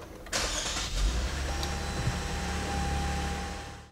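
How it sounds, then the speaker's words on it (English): A 2014 Lexus IS 250 is started by pressing the ignition with a foot on the brake: a short starter crank, then a steady, quiet engine idle close by, with no talking. "hold it pressed against the ignition for 2 seconds while our foot is on the brake, and that will allow us to start the car"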